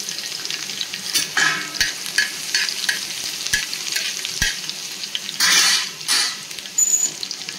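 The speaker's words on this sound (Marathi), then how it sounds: "आता त्याच्यात तेल गरम झालेलं आहे आणि त्याच्यात थोडंसं घालते लसूण" Garlic frying in hot oil in an iron pan, a steady close sizzle broken by scraping stirs and metal clinks of a utensil against the pan, with no talking.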